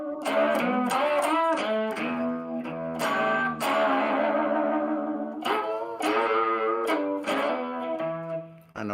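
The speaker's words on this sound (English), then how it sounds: "You got like a little reverb pedal or delay pedal?" Electric guitar playing chords and picked notes through an effects unit, with a lingering delay or reverb tail smearing the notes together, loud and continuous with no talk.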